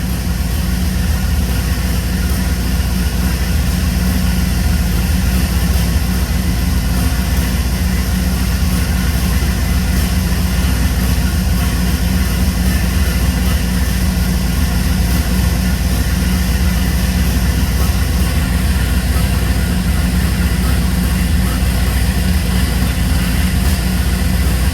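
A twin-turbo Chevrolet S10 engine runs continuously, a loud, steady, dense roar with a deep low-end drone and strong broadband hiss that never lets up.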